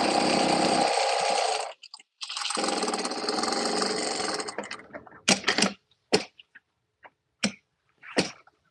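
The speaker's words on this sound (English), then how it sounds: "Just sewing away, sewing away." A sewing machine runs in long steady whirring bursts while sewing fabric, stopping briefly between runs, followed by several sharp separate clicks and knocks from handling the machine and fabric.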